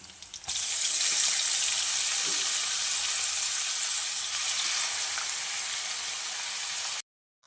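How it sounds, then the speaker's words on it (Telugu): Onions, green and dried red chilies, cumin and mustard seeds frying in hot oil, a steady loud hiss of sizzling that starts abruptly and continues evenly before cutting off, with no talking. "ఉల్లిగడ్డలు, పచ్చిమిరపకాయలు, ఎండుమిరపకాయలు, జీలకర్ర ఆవాలు వేసుకోవాలి ఫ్రెండ్స్. ఇలా దూరగా వేగిన తర్వాత ఆకుకూర వేసుకోవాలి."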